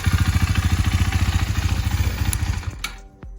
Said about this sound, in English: Sounds like, yeah, my Duke 390.